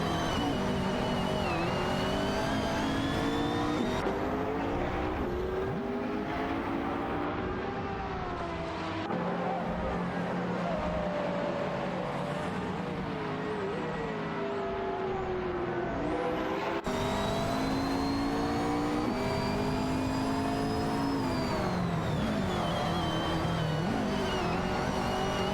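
Race cars circling a track in an AI racing video game, a continuous layered whine of engines rising and falling in pitch as cars accelerate and jostle, loud and steady throughout with no talking.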